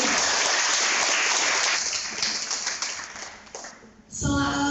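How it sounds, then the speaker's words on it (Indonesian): Talk show audience applauding, a dense wash of clapping that starts loud, gradually thins and fades, then gives way to a voice at the very end. "Tepuk tangan sekali lagi buat Mbak Yu."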